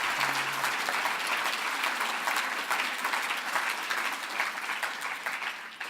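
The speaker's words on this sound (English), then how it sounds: "let's give them a round of applause" Audience applause for a panel at a talk on vibrant and healthy city communities, a dense, steady wash of many hands clapping that holds at an even level throughout.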